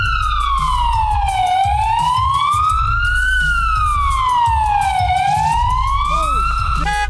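A loud wailing siren fitted to a twin-turbo Lamborghini Murcielago SV sweeps slowly up and down twice over steady engine rumble, then switches to a short rapid yelp at the end.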